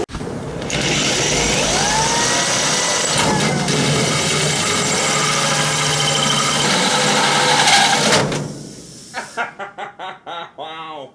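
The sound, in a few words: drill drilling hole through car body for fuel fill door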